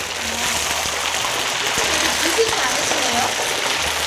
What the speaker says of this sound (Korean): 그거 튀김 오늘 소리가 지금 거의 뭐 갑자기 내린 소나기 장대비 소리가 나는데